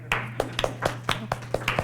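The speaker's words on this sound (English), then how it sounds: "Do you want applause?" Sparse clapping from a small group at a gathering, about nine distinct hand claps in an uneven rhythm over a low steady hum, close and fairly quiet.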